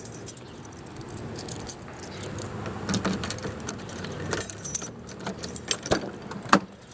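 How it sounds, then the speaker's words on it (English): Car keys jangle close by in irregular clinking bursts, with sharp metallic rattles scattered over several seconds and growing busier toward the end, without any talking. "Let me get my keys."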